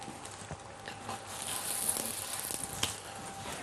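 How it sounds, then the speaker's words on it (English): Radicchio sizzles softly in hot olive oil, a continuous crackling hiss with a few faint clicks and taps. "while the radicchio is cooking"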